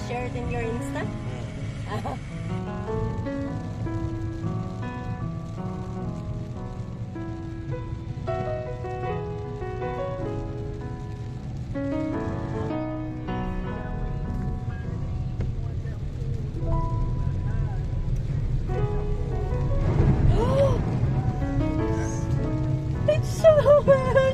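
Steady rain coming down outdoors in Doha, a constant broadband hiss that swells slightly near the end, under ongoing nearby conversation.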